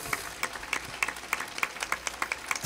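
A church congregation gives a short round of applause for the Lord during a sermon, a fairly soft patter of scattered claps in an uneven rhythm with no voices over it.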